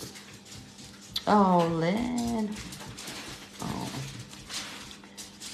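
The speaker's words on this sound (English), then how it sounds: "Sorry that my dogs have made a bit of a noise." A dog lets out a short, rising whine-like yelp, followed by a quieter one, with a person speaking briefly nearby.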